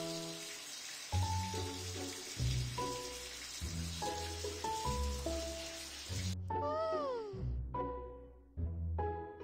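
Cartoon kitten meows repeat in short cute bursts from a BabyBus pet salon game, over light game music and a soft rain-like patter, ending with quick chirpy effects.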